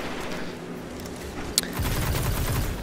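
Hard Light, an exotic weapon in the Destiny video game, fires a rapid stream of shots in the Shores of Time match, a sharp crack breaking through mid-burst before the automatic fire grows heavier and continues to the end.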